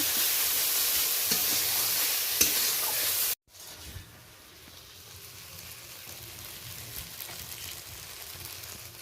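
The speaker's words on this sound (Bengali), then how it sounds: "পেঁয়াজ টমেটোর সাথে আদা বাটাটা বেশ ভালো করে নাড়াচাড়া করে নেব।" Onion, tomato and ginger paste frying in a pan and being stirred, with a loud steady sizzle that drops off sharply after a few seconds to a quieter, continuing sizzle.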